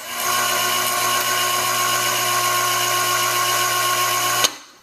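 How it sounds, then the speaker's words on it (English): Electric hoist with pulleys lifting a hinged Murphy bed, a loud steady motor whine with a constant hum running for about four seconds before stopping abruptly with a click. "Here's the hoist at work."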